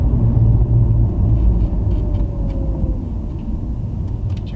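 Mercedes C180 CGI W204 engine driving uphill under load with a P0301 misfire fault, a loud, deep interior rumble that eases slightly as it goes, with no talk.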